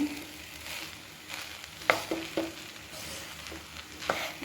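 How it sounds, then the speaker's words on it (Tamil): Egg fried rice with soy sauce is stirred in a pan over a steady sizzle, with a few sharp spatula scrapes and knocks standing out near the middle and end. "இப்போ எல்லாத்தையும் நல்லா கிண்டிக்கணும்"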